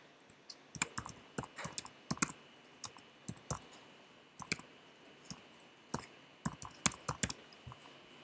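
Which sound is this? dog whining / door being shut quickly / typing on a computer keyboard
typing on a computer keyboard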